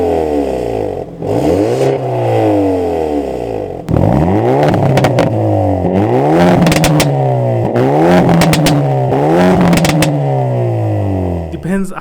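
A Hyundai i30N hatchback with active exhaust revs hard, several loud rising-and-falling engine sweeps with crackling pops from the exhaust between them, close and prominent.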